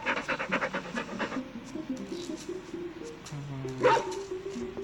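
A dog pants in quick rhythmic bursts, then gives a few short barks and whimpers. A voice talks over parts of it.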